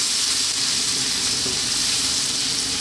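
Chopped garlic and a handful of black peppercorns sizzle in hot sunflower oil in a pan, a steady, close, bright frying hiss with no pauses and no voices.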